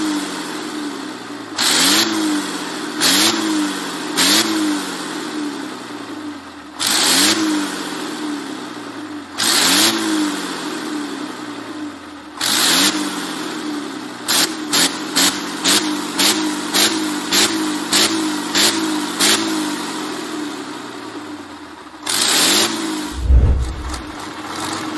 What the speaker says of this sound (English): Tatra refined the air-cooled diesel engine, developing a power plant that is both remarkably straightforward and highly reliable.